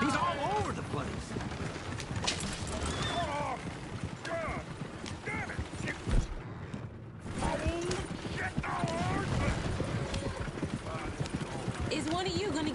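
Horse hooves clip-clop at a steady walking pace in a video game Western, with a creaking coach and a brief whinny, while characters talk over the hoofbeats throughout.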